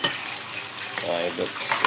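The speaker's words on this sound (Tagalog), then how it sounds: "Ayan, halo-halo lang. Hanggang sa prito lang din siya ng konti." Chicken liver and gizzards frying in a pan for adobo while being stirred, a close, loud continuous sizzle with scraping stir strokes through the two seconds and no voices.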